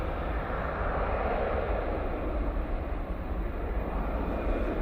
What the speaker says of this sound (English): KLM E190 coming in from Amsterdam Schiphol now.